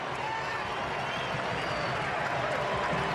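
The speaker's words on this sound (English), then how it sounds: "The German faithful in the crowd erupt." A football crowd roars with a steady, dense cheer after Germany scores against the USA. A commentator talks over the noise throughout.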